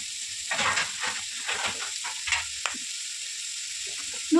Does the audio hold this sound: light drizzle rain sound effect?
no